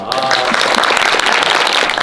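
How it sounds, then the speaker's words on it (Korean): Audience applause fills the hall at a live combat sports event, a dense, steady patter of many hands clapping loudly throughout with no break. "박수 한번 부탁드립니다."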